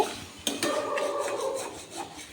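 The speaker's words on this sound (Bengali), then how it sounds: "সামান্য একটু জল দেব দিয়ে এইভাবে মশলাটা কষে নেব" A spice paste with a chilli and a splash of water is cooked down in a pan, with scraping and clattering from a utensil working the mixture and a brief sharp clank near the start.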